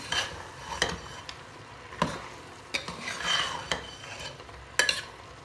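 Spices being stirred into mutton curry with tomatoes in a pressure cooker: scraping spoon strokes and clinks over a low sizzle, several distinct clacks spaced irregularly, close and moderately loud, no talking.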